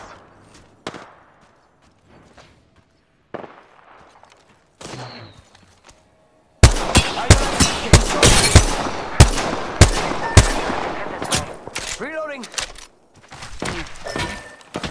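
Heavy automatic gunfire from Apex Legends, a battle royale shooter: after several quiet seconds with faint sporadic sounds, dense loud bursts of rapid shots and impacts erupt and continue to the end, with a short whooshing sweep near the close.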